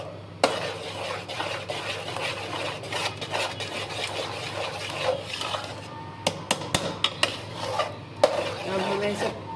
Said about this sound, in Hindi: अब इसको मैं चला रही हूँ।